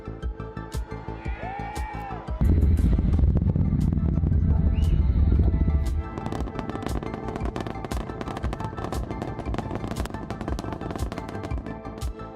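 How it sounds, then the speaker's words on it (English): SpaceX Falcon rocket lifting off from SLC-40 at Cape Canaveral: a deep, loud roaring rumble surges in after a couple of seconds, holds heavily, then eases to a sustained crackling roar; a voice is briefly heard near the start. "And liftoff of Crew 9. Go SpaceX, go Falcon, go NASA."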